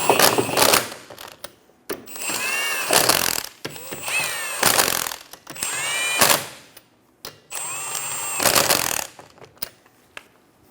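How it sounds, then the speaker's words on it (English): Impact wrench tightening lug nuts on a 2003-2007 Honda Accord rear wheel, four loud whirring bursts of a few seconds each separated by short pauses, close up, with no talking. "Snug the nuts down."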